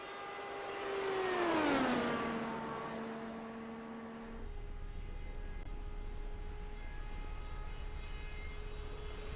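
An IndyCar race car, the number 15 Jack Daniels machine, passes on a qualifying lap with a loud whine that swells and then drops in pitch. A steady, more distant engine drone follows.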